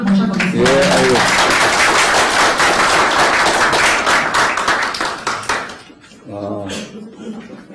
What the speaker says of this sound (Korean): 그럼 고영주 변호사님을 큰 박수로 모셔보겠습니다